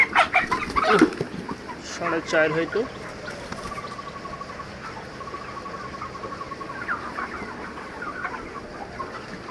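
Roosters and hens cluck in loud bursts on a poultry farm raising large birds, busiest in the first few seconds, then settling into quieter, scattered clucks under a steady background; a voice speaks briefly.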